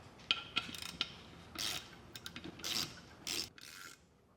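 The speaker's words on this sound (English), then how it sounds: "Now I'm going to go ahead and use a 7/32 hex bit and tighten these" A 7/32 hex bit tightens the bottom bolts of Firestone Ride-Rite air helper springs on a 2025 Chevrolet, giving close ratcheting clicks and rasping, grinding bursts in an uneven rhythm with no talk.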